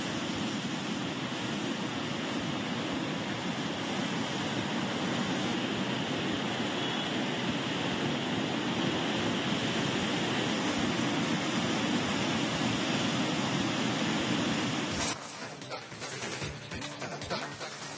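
Steady rushing roar of the swollen Phalguni river overflowing into low-lying land and plantations after heavy rain, a continuous wash of water that turns rougher and more broken toward the end.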